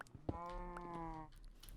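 A cow in Minecraft lets out one sustained, tonal moo at close range. Faint blocky footsteps and soft game sounds surround it.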